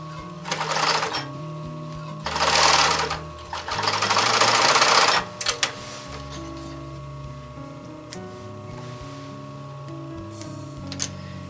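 A sewing machine stitches denim for a jeans purse liner in several short, loud mechanical whirring runs, separated by pauses with quieter clicks and handling noise.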